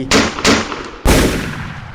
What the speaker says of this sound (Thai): เสียงปืนแผดลั่นขึ้นจากด้านหลังพร้อมกับลมร้อน